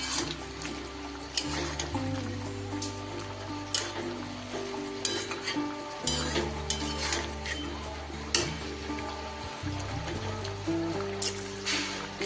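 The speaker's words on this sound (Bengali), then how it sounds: "দিয়ে এটা ভালো করে মিশিয়ে দেব।" Lemon pepper chicken is stirred in a pan with grated lemon peel and leaves, giving clattering spoon-on-metal scrapes at intervals over a low sizzle and a droning background hum.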